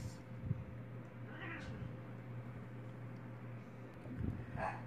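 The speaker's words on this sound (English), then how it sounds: "the dogs are barking, the cats are hissing" Cats meow indoors, with a few short, fairly faint cries standing out over a low steady hum in the background.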